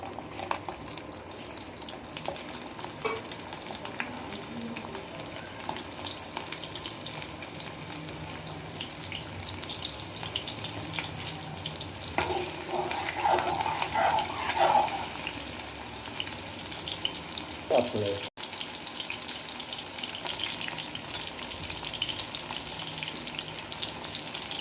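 Around fifteen small onions fry in hot oil in a pan, giving a steady, close crackling sizzle that holds level throughout with a few brief louder spatters and no voices.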